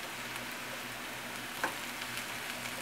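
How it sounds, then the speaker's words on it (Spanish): Rice frying in a pan, left untouched to brown, giving a soft, steady sizzle with faint crackles and one brief louder pop, close and quiet. "van a empezar para freír el arroz"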